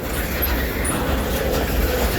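An ELS freight train rumbling past at night in Abrams, Wisconsin, a loud, close, continuous roar of rolling wagons with faint wheel squeals and clatter.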